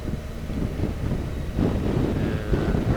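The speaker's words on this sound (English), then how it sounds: "It's a little bit windy" Steady wind buffets the microphone with a low, rumbling roar throughout, gusting slightly stronger partway through, with no other sounds standing out.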